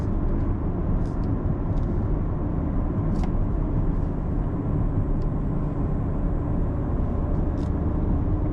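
A 2019 Audi RS5 Sportback pulls in third gear in comfort mode, heard as a steady, loud low engine and road drone from inside the cabin with no clear surge.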